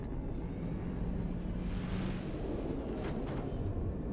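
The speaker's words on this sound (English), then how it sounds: "I did hear another ship." A spaceship passes overhead in the space game Starfield, a broad, steady roar like a distant jet with faint whooshing swells, heard alone without voices.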